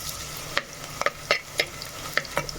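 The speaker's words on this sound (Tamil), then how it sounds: "வெங்காயம் நல்லா புன்னிறவாக வாங்கி வரட்டும்" Onion tempering sizzles in oil in a clay pot for a spicy crab curry, with steady close-up frying hiss broken by several sharp scrapes and clicks of a stirring spoon, no voices.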